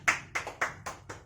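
A small group claps in a quick, rhythmic pattern of five or six sharp, evenly spaced beats, close by.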